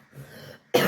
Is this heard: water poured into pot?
no